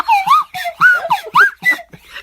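A slide whistle plays a run of short, close, fairly loud notes, each one gliding up or down in pitch in a quick, bouncy rhythm.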